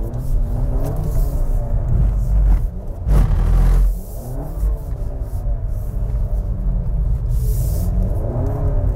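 A Seat Ateca FR with all-wheel drive held in a drift, its engine droning steadily with wavering pitch, tire and road rumble throughout and a brief surge in the middle.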